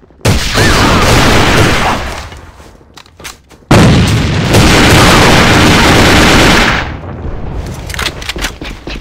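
Grenade explosions and gunfire in the shooter game A.V.A on a dock map: two loud, booming blasts with rolling rumble, mixed with rapid gunshots, then scattered fainter shots as the roar fades.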